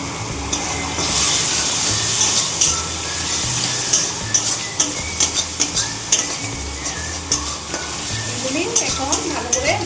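Spices fry with Kashmiri chili powder in a pan, sizzling loudly and close while a spoon scrapes and stirs in quick, repeated strokes that grow more regular toward the end.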